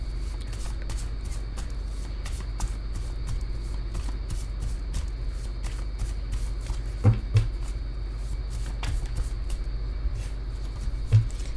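A tarot card deck is shuffled over and over in a quiet indoor room, a steady run of soft, rapid riffling flicks with a few louder taps of the cards near the end, and no talk.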